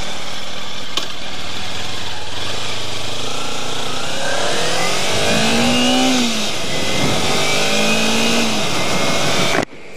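Kawasaki Ninja motorcycle engine runs loud and close, its pitch sweeping upward repeatedly as the throttle is opened and the rider shifts up through the gears.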